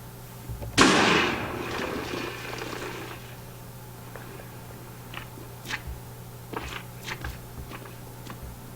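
TNT cannon blast in Minecraft, a loud sudden explosion with a crackling decay followed by scattered smaller pops and thuds, no talk.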